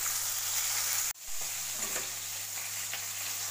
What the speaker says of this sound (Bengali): মাছটা পুড়ে যাচ্ছে, মাছটা পাল্টে।